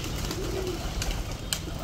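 Pigeons feeding on wheat and rice grains among ducks and chickens give a soft, low cooing close by, with light rustling and a brief tap in a short stretch of yard ambience.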